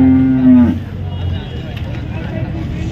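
A cow at a Chalisgaon cattle market lets out one loud, close moo at the start, then the sound fades into a steady bustle of market babble and nearby voices.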